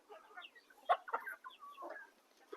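A Kaveri breed rooster, sick with fowl pox and sitting on a poultry farm, gives a few soft, scattered clucks at a moderate distance in otherwise quiet surroundings.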